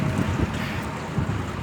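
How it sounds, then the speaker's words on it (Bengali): A small cargo boat passing on a river on a quiet morning gives a low, steady engine rumble mixed with gusty wind noise, with no voices. "নদীতে ছোট কার্গো যায়।"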